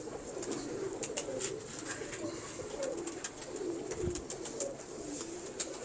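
Zeera pigeons coo softly in their loft nesting boxes, a faint overlapping chorus of low burbling calls, with light clicks and rustling in the background.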